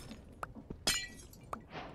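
Glass block breaking in the game Minecraft, Enigmatica 6 modpack: a single bright, sharp shattering crash with a few soft clicks around it, fairly faint and alone.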